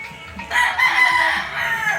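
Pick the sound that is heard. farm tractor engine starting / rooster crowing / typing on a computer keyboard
rooster crowing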